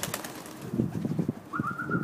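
Soft, low pigeon cooing close by, a few muffled throaty coos over quiet background noise.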